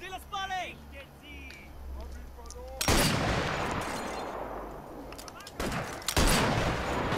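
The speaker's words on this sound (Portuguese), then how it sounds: "Tem gente me atirando ainda? Tem." Enemy gunfire cracks toward the player in the VR shooter Sniper Elite VR, with sharp loud bursts breaking in after a calmer stretch of speech, then a few more shots near the end.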